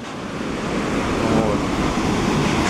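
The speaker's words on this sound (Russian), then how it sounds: "Вот хочу показать, какая бурная река." A turbulent mountain river in the Kabardino-Balkaria highlands rushes in a steady, loud broadband roar, continuous and close with no pauses.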